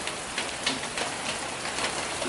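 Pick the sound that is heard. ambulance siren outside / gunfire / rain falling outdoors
rain falling outdoors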